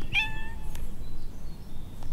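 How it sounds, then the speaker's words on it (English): A pet cat gives one short, close meow at the start, followed by faint room noise and a couple of soft knocks. "I wanted to show you guys my villa cat."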